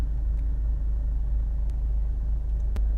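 Mercedes-Benz B-Class B180 CDI 1.8 diesel engine idling, heard from inside the car as a steady, low rumbling drone with a few faint clicks and no talk.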